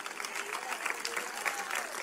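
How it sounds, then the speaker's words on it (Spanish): Church congregation claps in sustained applause, a dense even patter filling the room for a couple of seconds with no voices on top. "Denle un aplauso al Señor Jesucristo"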